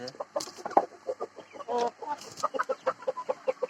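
Desi chickens and roosters cluck on a small poultry farm, a busy overlapping run of short clucks and calls from several birds nearby, with a brief squawk and flutter in the middle.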